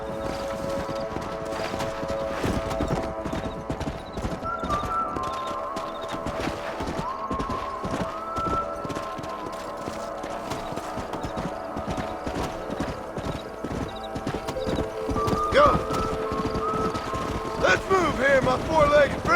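Horses' hooves clip-clopping in the video game Red Dead Redemption, a steady rhythm of many hoof strikes with occasional whinnies, wind in the background and voices talking.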